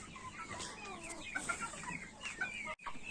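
A hen clucks repeatedly inside a chicken coop, giving short, close, uneven calls that tumble over one another with brief pauses and no talking.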